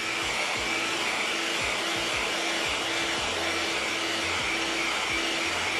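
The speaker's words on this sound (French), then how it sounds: "L'avantage du sèche-cheveux, c'est vraiment que vous pouvez travailler plus rapidement sur vos" A hair dryer blows steadily on fresh paint on an ABS RC car body, a loud, even whir with a faint hum running unbroken throughout.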